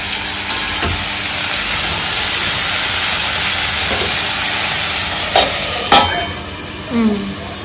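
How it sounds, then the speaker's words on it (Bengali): Vegetables frying with salt in a pan, a loud steady sizzle and hiss with a few stirring scrapes and clacks toward the end, no voices. "সবজিগুলো এখন নুন দিয়ে একটু ভাজা হোক।"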